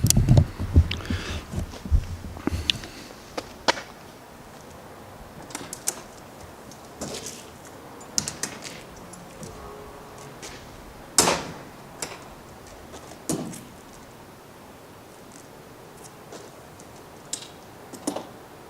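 A series of sharp, scattered mechanical clicks and taps as the front hood of a Porsche 550 Spyder is opened, close up and irregularly spaced, against a quiet background.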